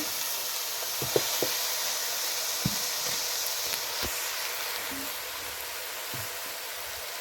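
Green chili, onion and garlic sizzling in a pan, a steady close hiss with a few scattered soft clicks and pops and no talking.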